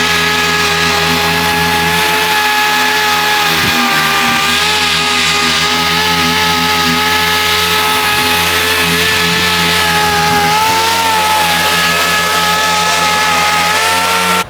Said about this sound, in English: let's sand a spot on that tailgate